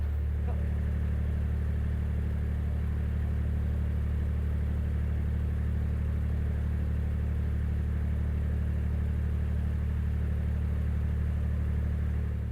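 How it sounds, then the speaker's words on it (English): Constant motorway traffic of cars and trucks heard from a canal, a steady low rumble and drone that continues without a break and stays moderately distant. "a never-ending stream of cars and trucks and everything else on the motorway."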